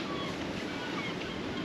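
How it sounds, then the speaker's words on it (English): Serious storm by the sea on the Turkish coast, a dense continuous roar of crashing waves and gusting wind buffeting the microphone, loud and unbroken with no talk. "It's quite a serious storm"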